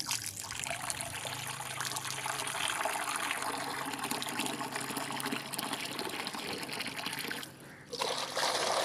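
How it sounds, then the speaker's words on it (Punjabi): Water pours and trickles steadily into a bowl set out for pigeons, a continuous close splashing flow lasting several seconds with a brief dip near the end. "ਪਾਣੀ ਪਾ ਦਿੱਤਾ ਹੈਗਾ, ਪੀ ਲੈਣਗੇ ਹੁਣ।"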